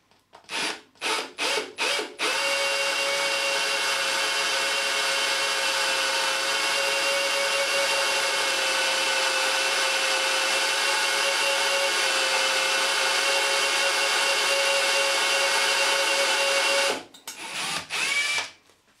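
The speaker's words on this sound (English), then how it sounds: "I'm going to proceed to drill the hole" A power drill with cutting paste bores into a broken bolt in a deep hole, a steady, loud whine held for about fifteen seconds, with brief start-stop bursts before and after.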